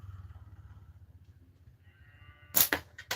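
An arrow loosed from a bow at a bird-shaped target gives a sharp, loud whoosh and impact near the end, followed by another brief crack, after a steady low droning background.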